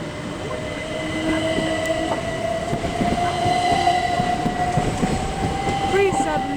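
Class 375 electric train moving through Sevenoaks station: a loud continuous rumble of wheels on rail with a sustained tonal whine, rising slightly before easing off near the end, close by.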